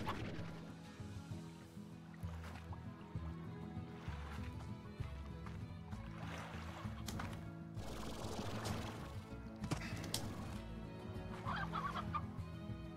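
Chickens cluck in the video game Slime Rancher, short repeated clucks in bursts at moderate volume over steady game background music and ambience.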